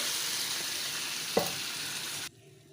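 Masala spices fry in hot oil in a pan for a potato and egg omelette curry, a close, even sizzle with one brief clink partway through before the hiss cuts off abruptly near the end.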